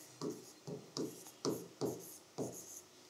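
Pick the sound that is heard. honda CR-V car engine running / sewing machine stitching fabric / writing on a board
writing on a board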